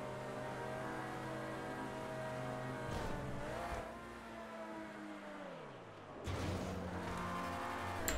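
A car races in the video game GTA V, its engine note climbing and then dropping sharply twice as the gears shift, with a steady revving drone between the shifts. No one speaks.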